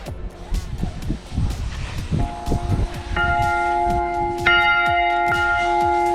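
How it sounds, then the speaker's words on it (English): A heavy bell at Hakuba, Japan rings out loud and close, its long resonant tone sustaining and swelling with a second strike, over some earlier clattering and movement. "Ring the bell."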